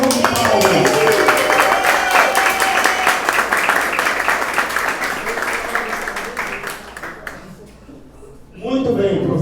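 Sustained audience applause in an academic event hall for a professor, dense rapid clapping that fills the room for several seconds and then tapers off, followed by a voice speaking.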